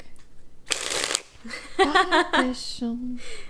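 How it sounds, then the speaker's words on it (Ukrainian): A quick riffle of slippery playing cards being shuffled, a short crisp burst, followed by people talking nearby. "я візьму карти, вони мене просто з рук випадуть, вони такі слизькі"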